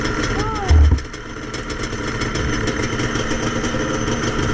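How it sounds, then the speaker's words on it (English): A 2004 KTM 250 EXC two-stroke dirt bike idles with an exhaust leak, a steady, close, buzzing engine drone with a brief low thump early on and a short voice-like sweep over it. "Yep, got an exhaust leak."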